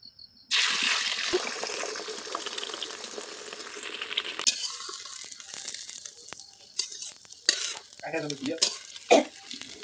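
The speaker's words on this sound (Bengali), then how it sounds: "এদিকে আমি ডিম এখন অমলেট করে নেবো মানে ভেজে নেবো" Eggs frying as an omelette in a pan, a loud steady sizzle that starts abruptly and hisses on, broken later by scraping stirs and clatter.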